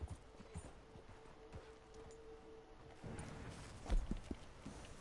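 Horse hooves clip-clop in a slow, uneven rhythm at moderate distance, with a louder thump near the end over faint background noise.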